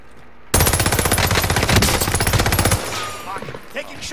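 Sustained rapid automatic gunfire from the Warzone Resurgence shooter, a loud continuous burst of about two seconds followed by fainter scattered shots, with a brief voice near the end.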